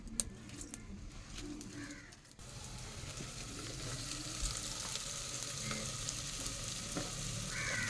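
Onions fry in a pan with a steady, moderately close sizzle that fills the whole stretch, and a pigeon coos softly in the background.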